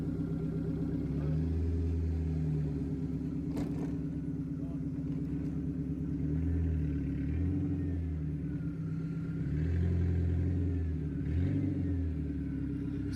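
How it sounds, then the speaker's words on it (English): A Ford Escort Mk6 1.6 Zetec engine idles through an unsilenced straight-pipe 2-inch exhaust with a loud, raw, unmuffled burble, then revs up several times in short bursts before settling back. "the car with the cat and centerpiece of exhaust fitted before I fit the back piece of exhaust"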